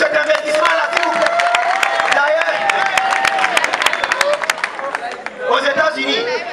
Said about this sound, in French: Applaudissez pour cet investissement-là, s'il vous plaît.